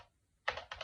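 Spacebar on a Naccon CL-750 mechanical keyboard pressed twice in close succession, each press giving a crisp, loud clack with a short rattle, after a quiet pause.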